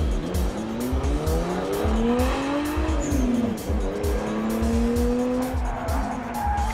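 A Nissan Skyline with four-wheel steering and all-wheel drive slides with loud, sustained tire squeal, pitch wavering and rising as the engine revs hard, close and continuous with no talk.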